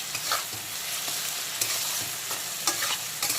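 Chopped tomato and onion fry in a pan, a steady close sizzle broken by a few scraping stirs of the spatula; no voices.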